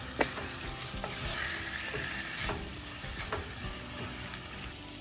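Gobindobhog rice, spices and potatoes are fried together in a pan, giving a gentle sizzle broken by spatula scrapes and small clicks at an uneven pace, close and moderately quiet with no talking.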